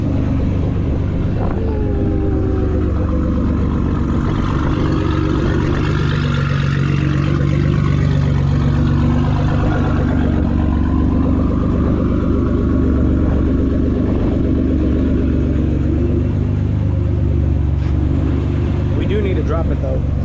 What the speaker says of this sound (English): I'm just gonna move the car back and forth, let it settle.